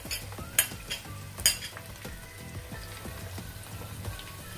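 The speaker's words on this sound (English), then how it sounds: "Until it gets transparent, let's just fry it." Chopped shallots fry in a pan for an egg masala, giving a steady soft sizzle with a few sharp clinks of a utensil near the start and light scraping stirs throughout.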